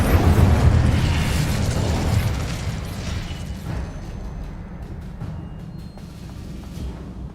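An Incendio fire spell bursts out in Hogwarts Legacy, a heavy whooshing blast that roars loudly at first and then fades into a crackling, rumbling tail with scattered small clicks.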